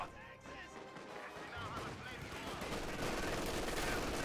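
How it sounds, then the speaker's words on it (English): A .50 cal machine gun fires in Company of Heroes 2, its rattling bursts growing steadily louder and denser within a busy battle mix of crashes and impacts. "50 cal firing away down here, trying to get this grenadier squad."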